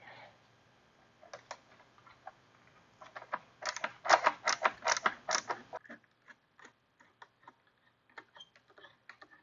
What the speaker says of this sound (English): you have this T27 Torx bolt holding the air cleaner on. So we're going to go ahead and remove that